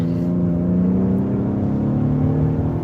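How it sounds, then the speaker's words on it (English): A 2020 Lincoln Aviator's twin-turbo V6 accelerating, heard as a steady, loud low engine drone with a smooth whirring layer that holds without a break for about three seconds, with no voices. "Get a good listen for that engine there."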